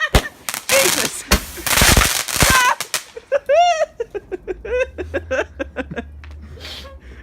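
Bonfire night fireworks in 2018, several loud close bangs and crackles followed by a rapid run of sharp popping bursts, with people laughing and exclaiming between them.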